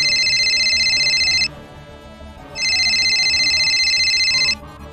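A telephone rings in a Bangla drama scene, two long bursts of a loud electronic trilling ring with a pause between them, close and unaccompanied by talk.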